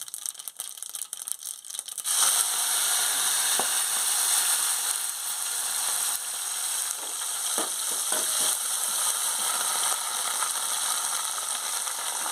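Cumin, green chillies and fenugreek leaves sizzle steadily in hot oil for a village-style brinjal and tomato curry, a dense continuous frying hiss with a few brief clicks of stirring.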